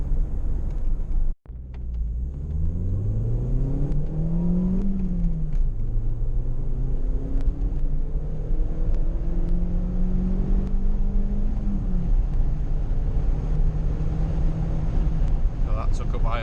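A VW Golf MK4 1.6 driving on the road, its engine note rising and falling through gear changes over a steady cabin rumble, with a short dropout early on and a person talking throughout.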